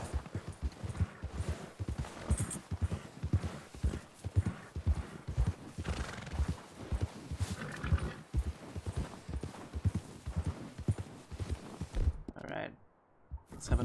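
Horse hooves clopping at a walk in cold snowy terrain in the video game Red Dead Redemption 2, with a whinny partway through, close and moderate in level before cutting briefly to near silence.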